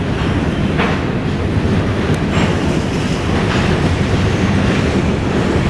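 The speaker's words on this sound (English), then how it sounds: "That's a really long freight, man. Don't often see a freight with 4 engines." Long CN freight train hauled by four engines rolling past in Montreal; a loud, sustained rumble of railcars with rhythmic wheel clatter and faint squeals, close and unbroken, no talking.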